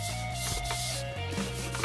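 A cloth rubs over a drum shell being wiped down with solvent to loosen old wax, giving repeated close scrubbing strokes that run without pause and with no voices.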